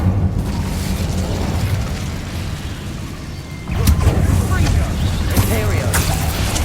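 In the Hogwarts Legacy video game, an Incendio fire spell bursts out with a loud whooshing roar. A second burst follows partway through, while a voice talks over the game sounds.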